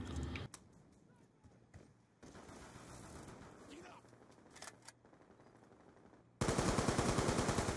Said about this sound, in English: Why are you shooting our sentry gun